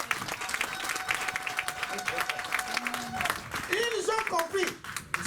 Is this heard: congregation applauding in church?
yes